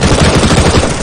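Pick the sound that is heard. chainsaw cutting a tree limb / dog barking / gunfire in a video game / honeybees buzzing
gunfire in a video game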